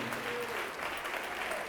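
A church congregation claps together during a worship service, a dense steady wash of applause filling the room throughout, with a voice faintly audible beneath it.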